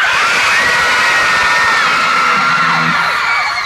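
A concert crowd screaming and cheering loudly, a dense sustained roar of many voices with shrill whoops, heard from within the audience.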